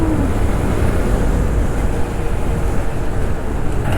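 A 2022 Honda Grom motorcycle rides along a road, its small engine blending into a dense, steady roar of wind and road noise with no talk.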